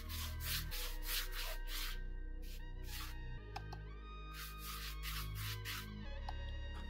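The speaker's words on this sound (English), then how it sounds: "And I brush it into the plaster to make it harder." A brush works a glue, water and color mixture into plaster spread on canvas, giving steady close scrubbing strokes with short pauses, quiet and alone.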